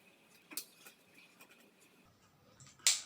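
Pen or marker writing out a math equation during a lecture, light scratchy ticks and taps spaced irregularly in a quiet room, ending with a sharper scrape.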